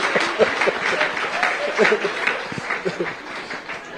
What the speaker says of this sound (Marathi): जोरदार टाळ्या होऊ द्या त्याच्यासाठी